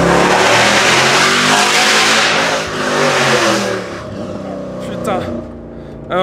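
Mercedes C63 AMG tuned to 520 hp with an Armytrix exhaust, revving hard and loud up close, a dense roaring drone that eases off toward the end with brief crackles.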